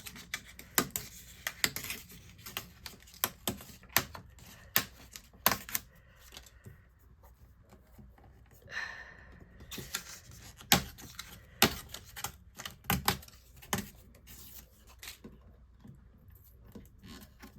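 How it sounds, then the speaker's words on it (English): Material being torn by hand to make a mailing package, heard as a series of sharp, irregular ripping and crinkling bursts with short pauses between them, close and without speech. "so now we're gonna tear."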